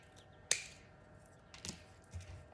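Scissors cutting paper into mosaic tiles, heard as a sharp snip followed by two softer cuts, close and quiet with no talking.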